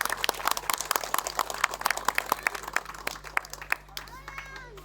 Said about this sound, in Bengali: প্রধানের জন্য জোরে একটা হাততালি।